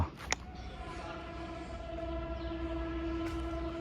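A train rumbles past at full speed while a long, sustained horn blares over it, with a couple of brief sharp clicks at the edges, near a new railway station in Malkajgiri, Hyderabad.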